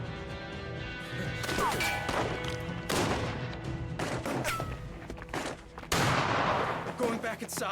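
Gunfire from a sniper on a water tower in As Dusk Falls: several sharp, loud cracks at irregular intervals cut through a tense, noisy game scene with music and shouting.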